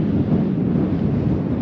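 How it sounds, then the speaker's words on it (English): Steady, loud wind buffeting the microphone on a desert cliff edge, a continuous low roaring rush with no pauses and no talk. "It's windy up here, and the last thing I need is a wind gust to blow us over"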